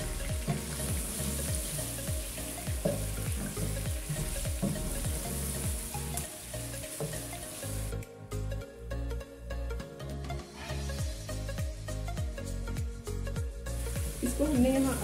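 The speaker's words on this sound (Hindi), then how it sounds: "इसको हमने यहाँ अच्छे से फ्राई करना है।" Garlic sizzles and fries steadily in a hot pan for a Shinwari chicken karahi, a continuous close crackle with some stirring, rising louder toward the end.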